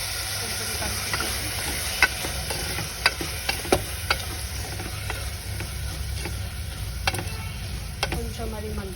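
Potatoes and beans for aloo curry are stirred in a sizzling pan, with a steady frying hiss and scattered close scraping taps of the spoon. A voice speaks faintly over the cooking.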